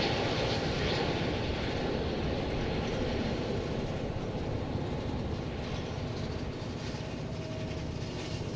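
An Envoy jet takes off from runway 18 Left at DFW Airport, producing a continuous, broad engine roar that stays fairly loud and steady throughout, with no voices.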